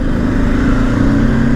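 Traffic heard from a moving motorcycle on a road near Nashik, with a loud, steady engine and road drone close to the rider and no speech.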